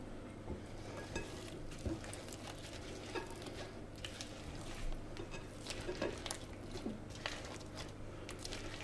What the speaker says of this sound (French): On va maintenant incorporer pommes et raisins secs.